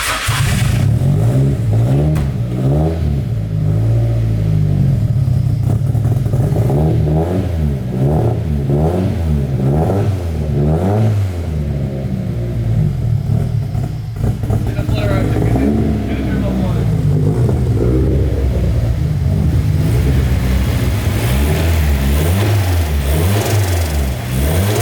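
A car fitted with a new SR-Z exhaust revs repeatedly, its deep exhaust note rising and falling in steady bursts before settling toward idle, loud and close, with people talking over it.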